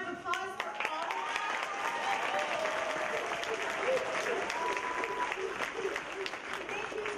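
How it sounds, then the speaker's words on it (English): An audience at a school variety show breaks into sustained, dense applause that fills the hall, heard at some distance, with a voice faintly audible under the clapping. "Let's have a round of applause for all of"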